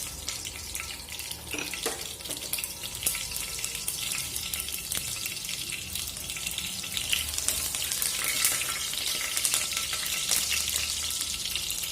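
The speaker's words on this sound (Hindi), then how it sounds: "हरी मिर्च भी तड़कने लगी।" Green chillies and mustard seeds splutter in hot oil in a pan, a dense, steady crackling sizzle with scattered pops, fairly close and without voices.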